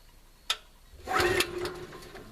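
Someone tries to start the gas motor on a Norwood LM29 sawmill: a sharp click, then a second or so of rattling, mechanical pull-over that fades without the engine catching.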